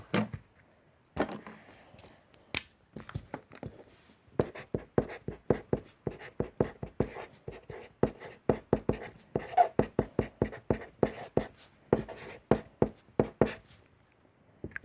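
A pen writes on a surface in close, quiet bursts of scratchy strokes, pausing briefly between words, labelling a jjajang tteokbokki DIY piece.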